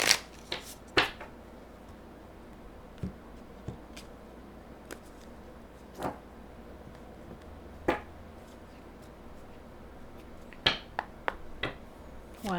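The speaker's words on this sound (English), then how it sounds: "I'll shuffle them one more time." Tarot cards snap and riffle in scattered sharp bursts, close by and fairly quiet, separated by pauses of near silence.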